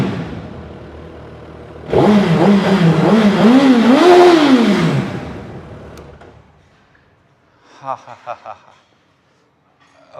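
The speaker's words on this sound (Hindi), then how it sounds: "सो गाइस चलिए अब थोड़ा सा रेव करके देखते हैं इसे।" A Suzuki Hayabusa Gen 3 motorcycle engine is revved once, close and loud, its pitch climbing and then falling away, followed by a few quick, fainter ticking pops.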